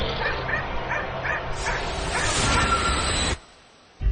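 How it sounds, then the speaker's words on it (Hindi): A small dog yips, barks and growls repeatedly in quick bursts, fairly close, with a whiny edge, then the sound cuts off abruptly near the end. "जोर जोर से भौंकने लगा"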